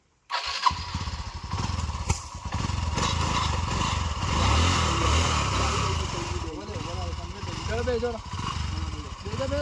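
A motorcycle engine cranks on its electric starter and catches, then idles and revs with a rumbling, uneven throb close by, while people talk over it.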